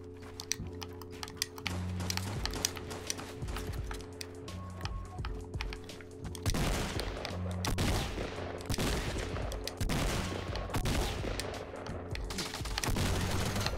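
Gunfire in the video game Fortnite Battle Royale: several bursts of rapid shots and single cracks, close and loud, with game sound effects and tonal hums between them and no speech.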